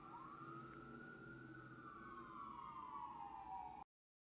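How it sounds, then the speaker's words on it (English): Emergency vehicle siren wailing outside, a rising and falling tone that sweeps steadily and stays moderately distant, running alone without talk before cutting off abruptly near the end. "Sorry about the sirens, guys."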